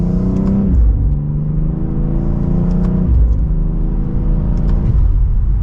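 A 2024 BMW X4M engine pulls hard from second gear, its tone climbing steadily through the revs with two upshifts dropping the pitch, loud and close from inside the cabin.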